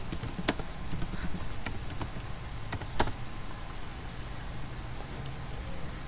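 Keys clatter on a computer keyboard as commands are typed, a close run of irregular clicks with a few sharper, louder keystrokes, over a faint steady background hiss and no speech.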